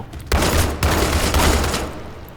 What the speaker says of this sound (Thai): หลังจากโดนปืนใหญ่นี้ไป